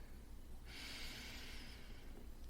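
A slow, deep breath drawn in through the nose, close and steady for about a second, as part of a guided breathing exercise at the start of a calm podcast about presence and the heart.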